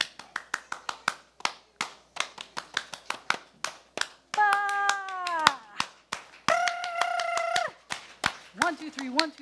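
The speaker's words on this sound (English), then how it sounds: "I need you to do clappity, clappity," Children at a Shabbat service clap in rhythm, a series of sharp, separate claps in repeating groups, with sung or spoken voices rising over the clapping at several points.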